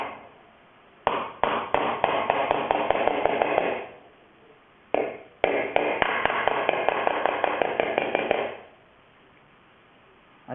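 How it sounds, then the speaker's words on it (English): Metal hammer striking the high spots of an aluminium motorcycle tank held on an anvil, in two long bursts of rapid, evenly spaced ringing taps, close and loud, with a short pause between them. "setting up the low spot on my anvil and just hitting the high spots"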